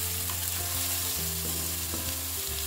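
Grated carrot fries in hot ghee with a dense, steady sizzle and the shuffle of stirring, close and moderately loud, no talking.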